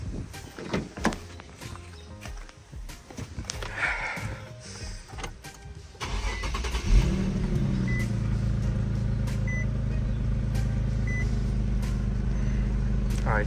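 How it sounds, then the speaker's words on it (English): A Nissan 350Z engine idles after a coil pack replacement, settling into a steady, even hum that starts partway through and continues alone without a miss. "I turn on the car now and it's not vibrating anymore"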